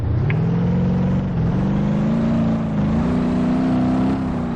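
A modded car driven in a video game gives a steady engine drone that rises slightly as it accelerates, loud and continuous throughout with no talk.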